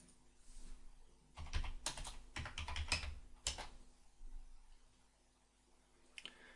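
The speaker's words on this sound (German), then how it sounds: "Danach geben wir im Suchfeld TT News ein." A search term typed on a computer keyboard, with bursts of close, quick keystrokes and short pauses between, alone in a quiet room.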